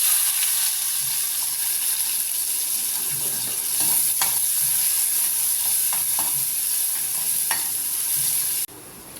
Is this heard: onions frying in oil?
yes